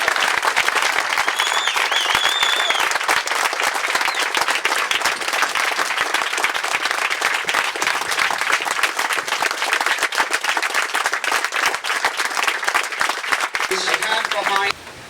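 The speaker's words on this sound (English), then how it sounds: "I just want to give Todd Nicely a big round of applause." A crowd at a home dedication ceremony applauds loudly and continuously for about fifteen seconds, a thick wash of clapping with occasional cheers that cuts off abruptly at the end.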